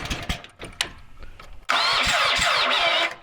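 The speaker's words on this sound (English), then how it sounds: "So this is your basic Honda engine, fuel on, choke on, half throttle." A Honda engine on a Hotsy hot water pressure washer turns over after some faint clicks and handling sounds, then catches and runs at a loud, steady mid-pitched idle before cutting off near the end.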